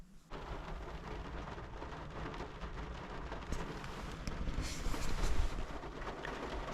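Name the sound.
rain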